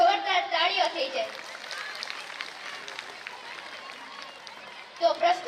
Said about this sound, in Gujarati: તો અમારી શાળા માટે અને અમારી શાળાની આ મહેનત માટે એક વખત જોરદાર તાળીઓ થઈ જાય.